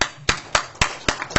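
An audience at a conference claps together in an even rhythm, with sharp, distinct claps about four per second.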